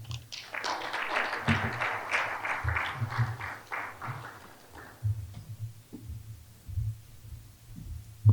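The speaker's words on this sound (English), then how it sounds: "Kindly make your applause more resounding." Applause at a project close-out ceremony comes in a burst of clapping from a gathered audience that fades after a few seconds, followed by scattered thumps and quieter room noise.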